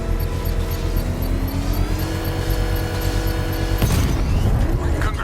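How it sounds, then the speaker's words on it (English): A bomb payload is detonated in a controlled blast triggered by a power winch in Batman Arkham Knight, with a sharp boom about two-thirds through after a stretch of mechanical straining and rumble. "I can use the power winch to trigger a controlled explosion."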